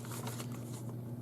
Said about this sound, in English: I'm going to take one of my envelopes and I'm going to push it down and rub it in